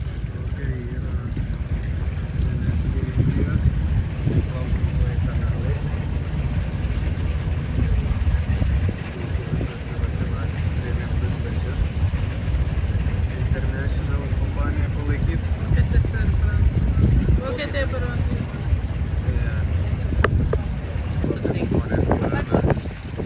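A boat glides along the Alleppey backwaters in Kerala, India, with a steady low rumble of engine and water running throughout, some wind buffeting, and voices talking intermittently over it.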